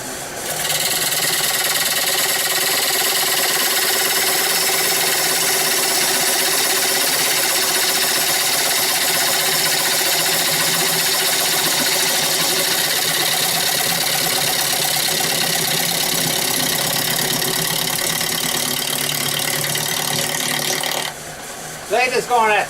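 A woodturning lathe spins a black and white ash platter blank at 600 RPM, giving a steady, loud motor hum with a high whine that runs evenly for about twenty seconds before cutting off near the end.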